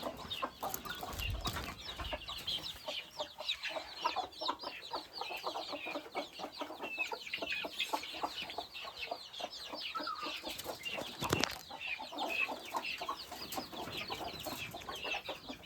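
Chickens clucking steadily in a chick pen where a mother hen is kept apart, a dense close chorus of soft clucks and chatter with one brief louder burst, no voices.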